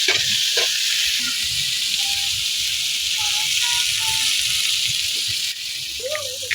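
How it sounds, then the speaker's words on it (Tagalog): Adobong kangkong, water spinach, frying in a pan while being stirred, a continuous loud hiss and sizzle with scraping stir strokes and soft clinks, a voice talking over it. "Haluin natin. Halo-haloin lang natin."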